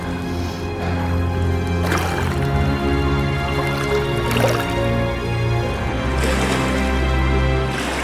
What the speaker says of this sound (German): Beim Sonnenuntergang genieße ich noch das Plätschern des Rheins und das dumpfe Grollen der Schiffsmotoren